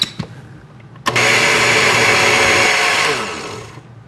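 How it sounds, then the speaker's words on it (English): A kitchen blender purees ginger and garlic for an Asian taco-style oyster dish, starting with a few short clicks before the motor kicks in loud and steady, then winding down near the end. "And I'm going to blend this down."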